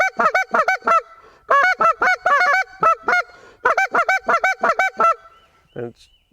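Sharp, honking goose calls in rapid two-note low-high double clucks on a short reed goose call, repeated in quick bursts with short pauses between, loud and close; a voice imitating geese on a call.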